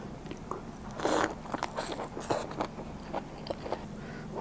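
Someone bites into Alaska king crab served with seafood dipping sauce, producing close crunches, cracks and wet chewing in irregular bursts, with no talking.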